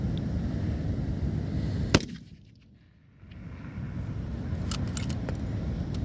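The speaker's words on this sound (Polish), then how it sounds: "Strzał." A single sharp, distant sniper rifle crack at a military naval firing range during a sniper competition cuts through steady outdoor wind noise, followed by a brief hush before the wind returns.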